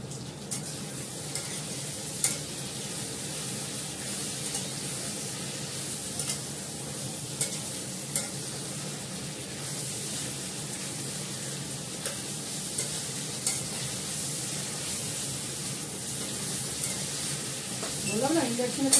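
A thick, darkened dish cooks in oil in a pan on an induction cooktop, sizzling steadily up close while occasional stirring clicks and scrapes break through.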